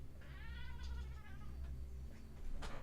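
A house cat gives a drawn-out meow and then a few shorter mews, faint and close against a steady low hum indoors.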